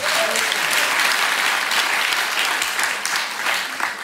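A stand-up comedy audience gives loud, sustained applause that fills the whole stretch and tapers slightly near the end.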